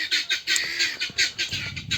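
Poultry clucking in short repeated bursts, several birds calling close together in a barnyard, with a low rumble of background noise.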